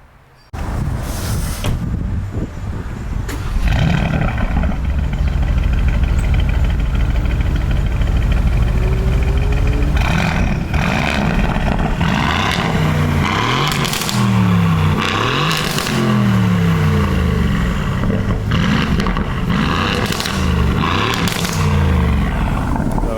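An Aston Martin Vantage with a custom exhaust mid-section roars loud and close, revving up and down repeatedly with crackles and pops between the sweeps of engine noise.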